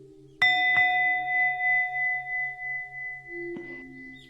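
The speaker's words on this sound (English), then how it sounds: "I will hit the bell." A meditation bell is struck once with a clear metallic ring that sustains and slowly decays, followed by a second light touch and a soft lower tone near the end, alone in a quiet room.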